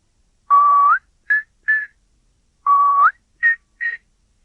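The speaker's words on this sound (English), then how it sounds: "Someone was whistling somewhere." A person whistles a short tune twice: a long held note rising at the end, followed by two quick higher chirps, clear and close.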